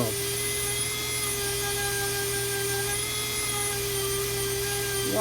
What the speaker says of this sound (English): See how much mass you can subtract off of there with just with a sander?